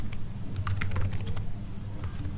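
Rapid clicking of computer keys while code is typed, a dense run of taps near the middle and scattered presses on either side over a steady low hum, with no voices.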